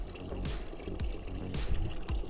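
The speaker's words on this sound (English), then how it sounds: "it'll start pumping out water at a pretty good pace" Water from a 1HP submersible utility pump pours and splashes steadily out of about 100 feet of garden hose, with repeated gurgling surges, close and moderately loud.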